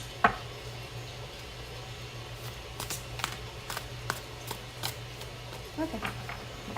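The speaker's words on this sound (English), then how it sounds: "One more shuffle." A deck of cards being shuffled by hand, a few soft quick riffles and taps close by in a quiet room, with talk nearby.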